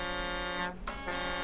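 Powerful truck air horn sounding in a Greek truck convoy, a loud sustained blare that breaks off for a brief moment and then resumes, close by and alone without talking.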